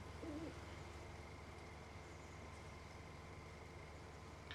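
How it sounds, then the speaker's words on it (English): A faint low owl hoot sounds briefly near the start inside the Farming Simulator 2019 game, over a steady quiet ambient hum with no talking. "I heard an owl."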